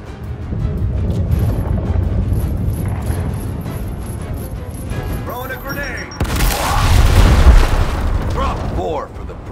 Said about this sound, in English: Clear them out with a frag grenade.